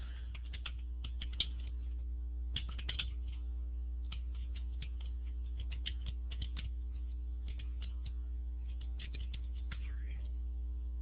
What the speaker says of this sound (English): I'm just typing in the URL here.